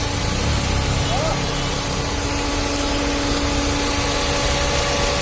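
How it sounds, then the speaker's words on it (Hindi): A Hyundai Santro Xing engine, just restarted after an overhaul, idles steadily with a constant low hum and mechanical vibration, close by, with some background noise throughout. "तो ये हो चुका है इंजन फाइनली स्टार्ट।"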